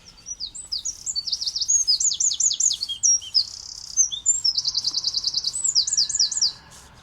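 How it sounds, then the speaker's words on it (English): A small bird sings continuously near a narrowboat, repeating quick bright chirping phrases and trills for several seconds, clear and fairly close over quiet background. "You've still got your little birdie singing to you."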